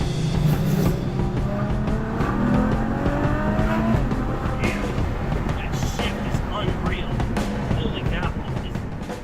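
A Ferrari GTC4Lusso V12 accelerating on a test drive, the engine note climbing through the revs in a sustained loud pull, with a rising whine and a voice talking over it.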